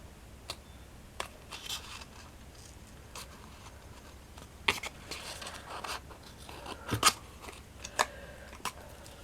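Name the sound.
scissors cutting paper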